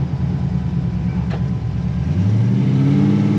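A 1957 Chevy 210 barn-find engine droning steadily while driving on a country road, a low uneven rumble that swells louder toward the end as it pulls.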